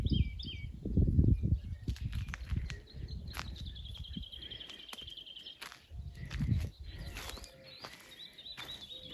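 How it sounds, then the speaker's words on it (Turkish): Birds chirp and whistle nearby in short repeated phrases, over low rustling and footstep-like thumps. "Kuşların sesi duyuluyor mu bilmiyorum ama bakın nasıl ötüyorlar."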